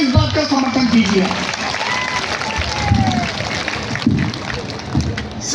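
A crowd at a Hindi-language rally marking Maharaja Suheldev Rajbhar's birth anniversary claps steadily in a dense, continuous wash, with a voice audible over the applause.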